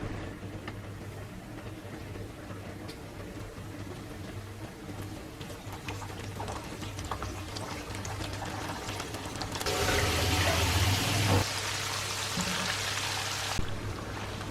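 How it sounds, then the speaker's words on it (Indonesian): Sardines sizzle as they fry in a pan during an Indonesian home cooking session. A steady, close hiss swells into a louder burst of crackling near the end before easing back. "Lalu kita goreng si ikan sarden."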